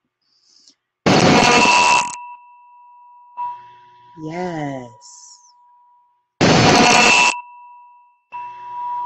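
A meditation gong is struck twice, each time with a loud, bright crash that leaves a long, steady metallic ring. A voice speaks briefly between the strikes.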